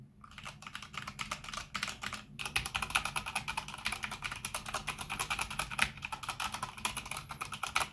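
Rapid, continuous clacking of a Corsair K100 RGB mechanical gaming keyboard being typed on, close up, with crisp individual keystrokes and no talking.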